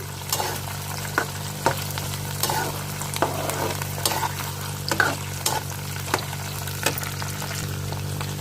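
Curry leaves and green chillies fry in hot oil with a soft, continuous sizzle, and a spoon stirs them, giving regular light scraping taps close by, with no talking.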